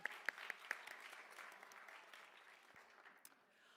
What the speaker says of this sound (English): Go ahead and clap. She deserves it.